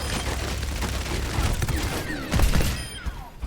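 Weapon fire in Overwatch 2 crackles in a busy, continuous burst of rapid shots mixed with game mechanisms and a heavier thump near the middle, moderately loud and unbroken.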